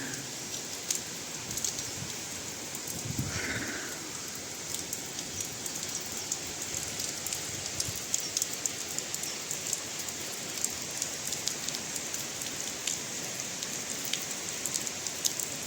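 Steady heavy cyclone rainfall in Balasore, India, hissing on surfaces, dense and continuous, with scattered louder drops and a brief low thump partway through.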